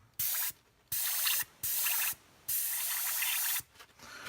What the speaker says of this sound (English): Spray some out, hit it again.